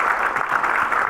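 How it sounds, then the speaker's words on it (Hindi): Loud, dense applause from an audience at a business gathering, continuous clapping blended into a steady wash of sound, close and full with no pauses. "जोरदार तालियां"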